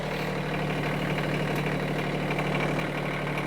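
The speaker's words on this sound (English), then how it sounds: "Now you can move the tractor forward." Kioti CS2520S compact tractor engine idling nearby, a steady low rumble with a faint regular knock and no change in pitch.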